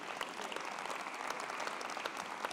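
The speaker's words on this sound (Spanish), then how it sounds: "Otro aplauso para ellos." An audience claps steadily at an awards ceremony for smart and sustainable mobility, a dense, even patter of many hands heard at moderate distance and fairly low level throughout.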